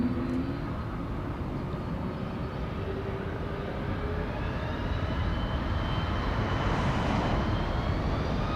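A Qantas airliner at Los Angeles International Airport, cleared for takeoff, produces a continuous loud engine roar that slowly rises and shifts in pitch, steady and unbroken across the stretch.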